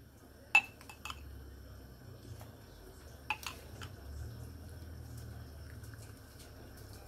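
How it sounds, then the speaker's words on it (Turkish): Glass jars being filled with homemade tomato sauce: a few faint clinks of glass and utensils, spaced apart, over a soft steady kitchen background. "Sosumuz kaynarken diğer taraftan da kavanozlarımızı dolduralım."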